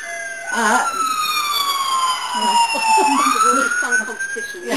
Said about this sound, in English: yes, that's right. The ambulance.